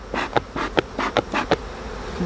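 Honeybees buzzing close up in the honey supers of a hive, a steady hum with several sharper, louder buzzes of individual bees passing near.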